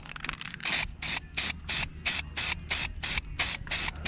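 An aerosol can sprays a second coat of paint onto the exterior trim of a 1999 Lincoln Navigator. About nine short hissing bursts come in quick, even succession, close and clear.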